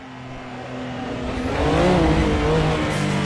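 A race car engine in a VR racing game roars close and loud, its pitch climbing and then dropping sharply as it downshifts, with a whine of rising and falling tones over a steady rumble.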